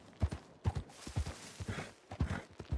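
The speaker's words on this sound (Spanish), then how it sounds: "Vale, no vayas rápido con el caballo." Horse hooves clip-clop at a steady walking pace in a Western-themed video game, paired hoof strikes repeating rhythmically, fairly close and moderately quiet, with no talk.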